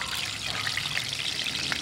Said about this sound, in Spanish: Yo me voy a ir sirviendo el agua ya servido, nada más que está caliente.